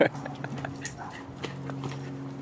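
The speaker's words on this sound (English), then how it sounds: "Keep your dogs on a leash, guys." Dogs being walked outdoors make soft whimpers and yips amid footsteps and rustling, fairly faint with a steady background hum and little talk.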